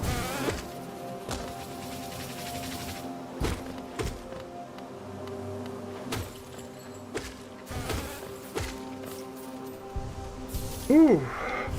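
Small buzzing bee enemies in the Hollow Knight video game drone and whir over a steady game music bed, mixed with repeated thuds and hits from combat, close and moderately loud.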